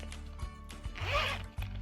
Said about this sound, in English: You zip it open.